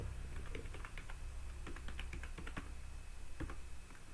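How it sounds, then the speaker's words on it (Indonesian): A computer keyboard clicks quietly as a command is typed at a command prompt, with irregular bursts of keystrokes and short pauses over a soft background hiss. "Dari command prompt di sini kita ketik FTP terus IP DNS server."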